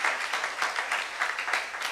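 Congregation clapping during a church youth sermon, a dense, rippling patter of many hands that rises and falls in uneven waves, fairly close and continuous throughout.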